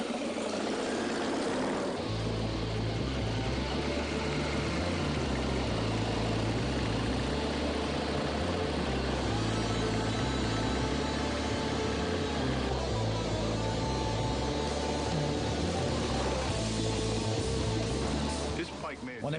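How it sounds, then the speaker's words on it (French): A custom-built motorcycle runs steadily through a solo road test, its low engine drone loud and continuous throughout with a throbbing rhythm and no talk. "histoire de faire le test sur route avec la moto"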